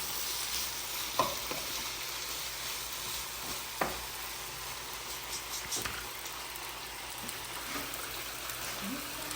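Tomatoes cook down in a pan with a soft, steady sizzle, punctuated by a few scraping stirs of a utensil; no one talks.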